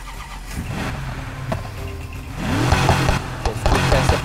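1969 Dodge Charger with a Hemi V8 firing up in the Need for Speed Heat video game. The engine cranks, catches and settles into a deep, loud, rumbling idle, rising in strength partway through.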